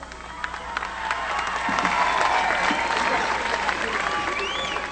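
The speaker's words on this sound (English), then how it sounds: "Please recognize and give a great round of applause for Damu Smith." Loud, sustained applause from a large audience, clapping building after the first second and holding steady with crowd noise throughout.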